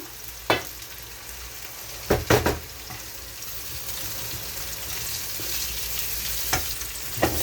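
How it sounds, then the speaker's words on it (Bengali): Eggs fry and are scrambled in a pan with a steady close sizzle, interrupted by a few sharp scraping stirs of the utensil against the pan. "এখানে ডিম বাজি করে নিম এখন"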